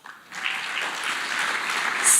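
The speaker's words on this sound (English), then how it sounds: "A round of applause." Audience applause at a matric top achievers awards ceremony: a steady wash of clapping from a crowd that swells after a quiet start and holds at an even level to the end, with no voices over it.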